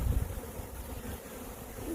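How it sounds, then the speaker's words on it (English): Honey bees from a good-sized colony buzz around a yard hive, a steady low hum up close with no talk over it. "We've got a pretty good size colony going in here. A lot of bees."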